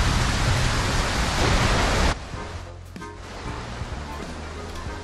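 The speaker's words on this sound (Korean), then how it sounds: "이 게임에서 가장 퀄리티 좋은 게 빗소리인 것 같아요" Heavy in-game rain from the PC game Ylands pours as a loud, dense hiss for about two seconds, then drops sharply to a much quieter rain as the volume is turned down, with faint sounds underneath.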